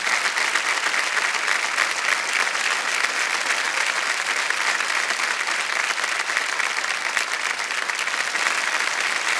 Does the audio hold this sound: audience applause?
yes